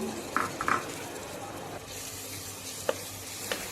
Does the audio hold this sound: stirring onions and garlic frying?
yes